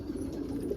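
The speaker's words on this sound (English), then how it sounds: "There's a nice black frill stencil cockbird over there." A black frill stencil pigeon cockbird, a breeding bird, coos in a low, steady rumble that runs continuously through the short moment, fairly close but soft.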